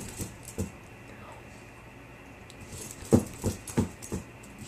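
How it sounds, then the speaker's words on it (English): A small dog whimpers and yips faintly in short bursts, a few soft cries clustered together near the end amid quiet background. "Oh. You heard that puppy."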